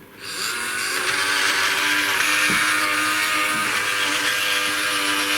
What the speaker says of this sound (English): So now I need to spin it right round on this turntable. It's going to be a bit noisy